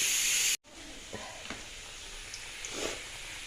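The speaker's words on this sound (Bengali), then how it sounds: "আলুটা লাল লাল করে ভেজে নিই" Potatoes fry in oil with a faint, steady sizzle and hiss. A loud burst at the start cuts off abruptly, and a few soft clinks follow.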